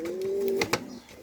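A caught pigeon gives a single steady, low coo lasting about half a second, followed by a couple of brief sharp clicks, close and moderately loud with no talking.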